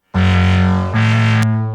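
A short passage of synthesized sine-wave music plays two smooth, pure sustained tones in sequence, loud and close, with no other sounds.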